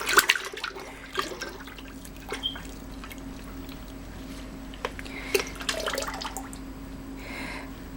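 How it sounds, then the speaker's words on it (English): Lye solution trickles into peanut butter soap oils, a thin intermittent pouring and splashing with a few small knocks, fairly close and quiet. "So I'm going to add in my lye."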